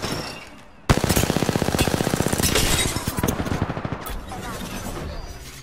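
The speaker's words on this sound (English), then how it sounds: "Shots fired and they're hitting me." Sudden sustained automatic gunfire in the battle royale shooter Apex Legends, a sharp onset followed by a fast, even rattle of shots, then a second shorter burst, loud and close with voices beneath.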